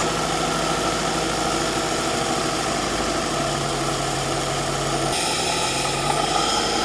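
Car engine idling while power foam carbon cleaner is run through it to clear out old deposits, a steady, close, even drone with a slight vibration and no talking.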